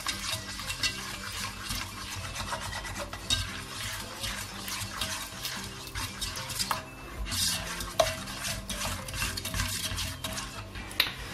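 A butter mixture for quick Christmas gingerbread cookies melts in a pot while being stirred, bringing repeated scraping and clinking of a utensil against the pot over a faint bubbling, close up and with no speech.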